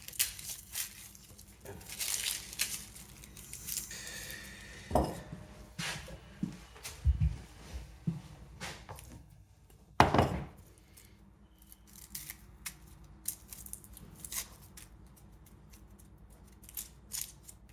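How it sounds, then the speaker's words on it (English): Garlic cloves crushed for peeling in a home kitchen while making veal blanquette: a couple of sharp, close crunching thumps stand out against quiet rustling and small handling noises. "I crush it a bit as it makes it easier to peel the garlic"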